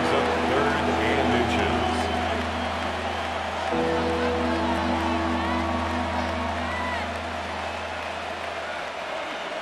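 A stadium crowd in a Madden NFL video game, Arizona Cardinals against Carolina Panthers, roars in a steady cheering wash under a commentator's talk as the offense lines up for third down.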